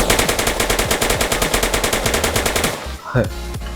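Rapid, loud automatic minigun fire in GTA San Andreas, a fast steady rhythm like a rotary gun blasting continuously, then cutting off into a few scattered mechanical clanks.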